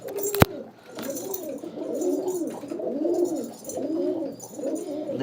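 Domestic pigeons in a cage coo steadily in repeated rolling phrases, several overlapping calls close by with a sharp click near the start and no talk.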